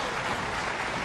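Audience applause in a snooker arena at the Shanghai Masters 2023 during Ronnie O'Sullivan versus Luca Brecel, a steady, moderate wash of clapping lasting about a second with no voices.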